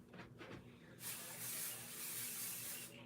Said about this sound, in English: when you spray your Pixie Spray, it's a low tack adhesive and it's repositionable